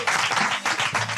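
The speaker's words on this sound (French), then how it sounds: "Applaudissements pour Pascal!" Brief burst of audience applause from a crowd, dense clapping that swells and dips over about a second with no voices.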